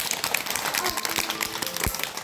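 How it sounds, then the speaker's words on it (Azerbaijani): A group of children at a library story hour clap for themselves, a short, busy patter of hands with a few sharper claps standing out. "Gəlin özümüzü alqışlayaq."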